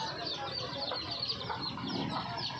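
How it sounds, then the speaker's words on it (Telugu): Household chickens with their chicks cluck and peep close by in a continuous, busy chatter, with a few louder calls standing out. "మా కోడి పిల్లలు"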